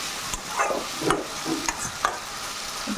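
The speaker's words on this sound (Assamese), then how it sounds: "ধুনীয়াকৈ লাহে লাহে ভাজি একে মাজে মাজে মই ঢাকনাখনো মাৰি দিওঁ" Potatoes and tomato fry slowly in a pan, a gentle continuous sizzle punctuated by soft spatula stirring scrapes every half second or so, close and fairly quiet with no talk.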